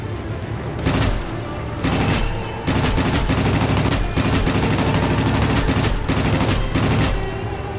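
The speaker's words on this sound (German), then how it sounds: "Ihr wagt es doch nicht, auf mich zu schießen." Sustained bursts of rapid machine-gun fire crackle loudly and almost continuously at the player's plane in the World of Warplanes combat game, with brief pauses between volleys.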